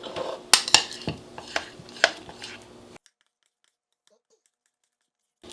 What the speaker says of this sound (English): And I'm simply going to stir this mixture together.